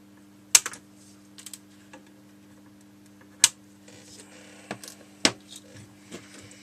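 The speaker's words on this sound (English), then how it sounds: "Snip the legs off." Sharp snips of cutters trimming component legs on a Sinclair Spectrum Plus circuit board, three distinct close clicks spaced a few seconds apart with softer taps and handling noise in between, against a steady low mains hum.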